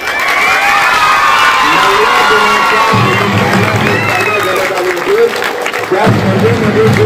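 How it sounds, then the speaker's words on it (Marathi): Loud applause and cheering from a crowd of schoolchildren at a school's 40th anniversary celebration, sustained clapping with shouts and whoops throughout, a voice speaking over the din partway through. "म्हणून जोरदार टाळ्या"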